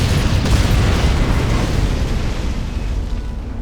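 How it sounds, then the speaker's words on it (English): Refineries blowing up in the Halo Wars video game, a loud rumbling explosion that booms and then rolls on for several seconds, dense and close, with no talking. "If we blow up these refineries, the enemy air pads will go with them."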